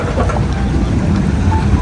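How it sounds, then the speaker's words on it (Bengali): A trawler boat approaches a jetty on a Venice canal, its engine a steady, broadband rumble with wind and water wash close to the microphone, continuous and fairly loud. "এই যে এই ট্রলারটা আসতেছে"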